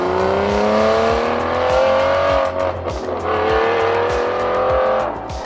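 An Aston Martin V12 AMR's naturally aspirated V12 engine drones and rises in pitch as it accelerates through gears, loud and close, with a brief dip between shifts.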